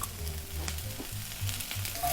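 Green beans and shallots sizzling in a very hot pan, a steady close hiss with a low hum beneath and a few faint clinks, no voices.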